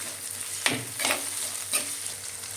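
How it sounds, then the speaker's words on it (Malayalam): Onion, curry leaves and tomato sauté in a hot pan for a fish curry, a soft continuous sizzle broken by a few scraping stirs of a spoon, close and fairly quiet with no talking. "അതുപോലെ കുറച്ച് കറിവേപ്പില, തക്കാളി ഇതുകൂടെ നന്നായിട്ട് വഴറ്റുക."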